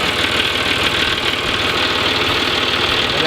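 A farm tractor engine idles before being shut down, a steady close rumbling chug with a slight knocking pulse, running alone without talk.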